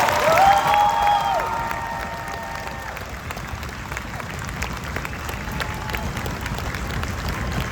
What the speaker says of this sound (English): Ladies and gentlemen, please give them one more round of applause.